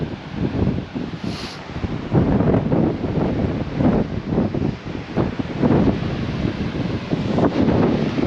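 Blustery wind buffets the microphone at a beach on Whalers Way, roaring steadily in uneven gusts with a faint wash of surf underneath.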